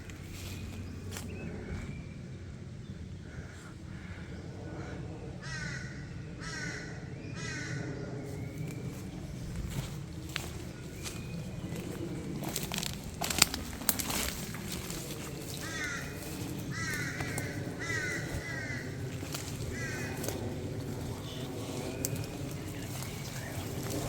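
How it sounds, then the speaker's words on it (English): Crows cawing repeatedly from a nearby ridge in open country, harsh calls coming in bursts over faint rustling and footsteps. "I'd say it is just a bird."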